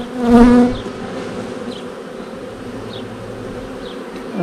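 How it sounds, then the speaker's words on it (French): Honeybees buzz loudly around a hive, a dense close drone that swells early as a bee passes near, then settles into a steady hum with no voices. "il faut que les abeilles s'en aillent"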